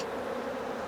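Honey bees crowd a hive frame, making a dense, continuous buzzing hum that stays close and even throughout, with no voices.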